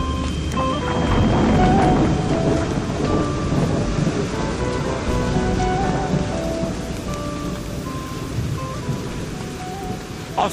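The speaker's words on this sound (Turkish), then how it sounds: "öyle güçlü bir yıldırım düşmüş ki ağacın tepesine" Heavy thunder from a lightning strike on a treetop rumbles loud and close, rolling on over steady pouring rain for several seconds with no talking.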